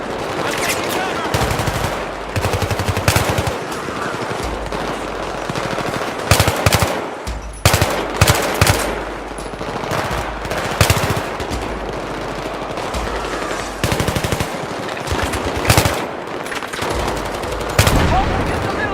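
Sustained bursts of machine gun fire in the video game Battlefield 3, loud and close, with rapid rattling volleys continuing through most of the stretch and brief gaps between bursts.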